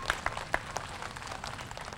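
Scattered claps from an audience honour a mayor at an outdoor youth garden grant ceremony, coming quietly and at a distance in a few sharp hits with thin applause behind them.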